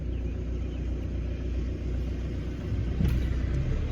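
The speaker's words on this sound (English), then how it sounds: "I'm going to get hit by a garbage truck" A garbage truck rolls past on a street, its heavy engine rumbling steadily close by and swelling slightly louder near the end as it goes by.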